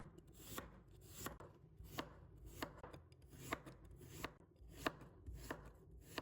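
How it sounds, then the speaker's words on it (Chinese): Knife chopping a peeled celtuce stem into thin strips and small dice on a cutting board, a steady rhythm of about ten crisp taps spaced roughly half a second apart, soft and close. "再切成细丝， 然后切成小丁。"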